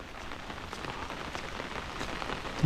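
First monsoon rain of the season falls steadily in the Konkan countryside, a dense, even hiss of drops striking surfaces nearby, continuous and moderately loud with no voices.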